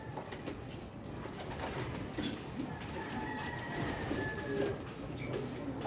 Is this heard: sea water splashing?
no